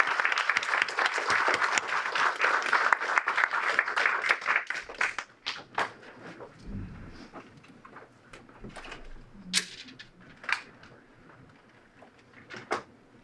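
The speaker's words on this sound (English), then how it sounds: "So let's give a round of applause." Audience applause at a conference, a dense burst of clapping for about five seconds that thins into scattered claps and faint room noise, with a few isolated claps toward the end.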